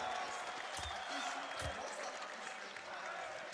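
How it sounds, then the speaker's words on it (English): A large crowd at a Counter-Strike esports final between Na'Vi and Envy cheers and applauds as a diffuse, fairly distant roar, with a couple of louder bursts and commentators talking over it. "This crowd is very hyped for Na'Vi."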